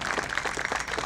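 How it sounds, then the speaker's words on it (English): A crowd at a Veterans Day festival in Long Beach gives a round of applause for veterans, a brief burst of steady, moderately loud clapping. "let's take this time right now to give a round of applause to the veterans who are here with us"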